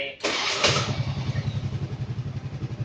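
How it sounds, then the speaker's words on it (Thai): A 4-stroke motorcycle with a vacuum carburettor, running on gasohol during a cold morning start, catches with a loud burst as the throttle is twisted, then settles into a steady, rhythmic, throbbing idle close by. "ทีนี้ครูบิดคันเร่ง"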